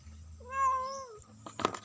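A cat meows once, a drawn-out wavering cry close by, followed by some soft rustling and clatter.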